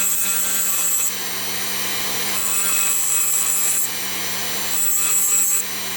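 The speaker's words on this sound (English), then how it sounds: "it's a good idea to deburr both edges like this." A file or deburring tool rasps back and forth across the metal edges of a Muncie 4-speed gear slider in steady, repeated strokes, close up and alone with no talking.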